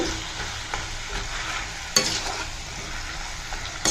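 Mango thokku cooking in a pan, a steady close sizzle with a few soft stirring scrapes and one sharper clink partway through, no voices.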